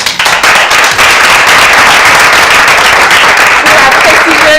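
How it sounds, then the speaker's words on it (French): Loud, sustained applause and clapping from an audience at a Miss Congo SA 2013 beauty pageant audition, dense and steady throughout with some sharp claps standing out. "Je vous prie donc d'applaudir"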